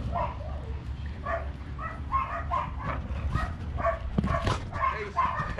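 Greyhounds bark and whimper in a rapid run of yips and whines, loud and close, broken by one sharper outburst near the end, as a person speaks over the excited dogs.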